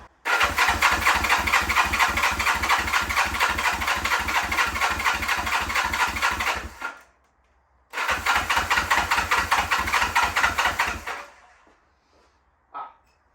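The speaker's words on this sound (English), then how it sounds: "Let's go ahead and see if this thing will fire up." A 1974 Honda CB450 motorcycle engine cranks and fires, a loud, rapid, even chugging close by that runs for about seven seconds, stops, then starts again for a few more before dying away.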